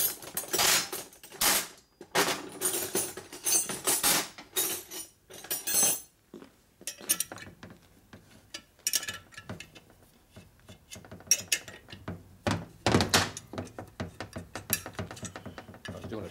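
Ratchet wrench tightening nuts on a split 1965 Harley-Davidson panhead 74ci FLH engine case, heard as bursts of rapid clicking that alternate with quieter handling noises and pauses.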